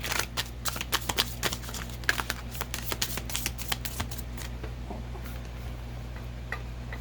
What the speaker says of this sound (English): I'm going to shuffle it another way for a moment